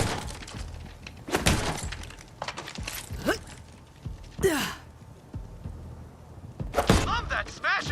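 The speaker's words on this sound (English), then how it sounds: "Love that smashing sound!" Smashing impacts in the Borderlands 3 video game come as several sharp crashing bursts with breaking, shattering edges, spread among grunts and a speaking voice.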